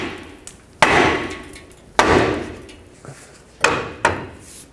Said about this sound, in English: you can hammer on here and break the ball joint free from the knuckle